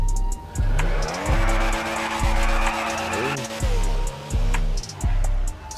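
A Comet S2 Cabrio sports car drives in a video game. Its engine revs loudly and close, with rising pitch between repeated gear-shift dips and some tire squeal.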